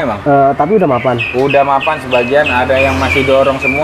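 Caged songbirds, including magpie robins, chirp and tweet at a bird kiosk, bright short calls repeating close by beneath near, continuous conversation between two men.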